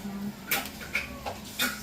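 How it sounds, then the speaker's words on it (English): A cat meows several times in short, close cries spaced about half a second apart, over a steady background hum, during an outdoor shrimp boil. "Cat scared me."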